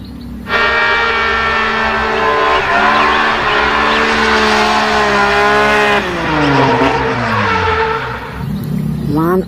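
A toy race car from a Pixar Cars set, with a loud sustained engine-like tone that rises and bends in pitch, then swoops near the end like a skid, playing continuously with no talk over it.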